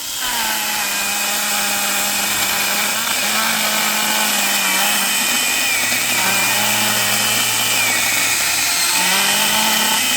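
A Parkside PGHSA 20-Li B1 20V rechargeable mini chainsaw cuts steadily, its loud, close, high motor whine holding throughout with slight pitch shifts as the load changes.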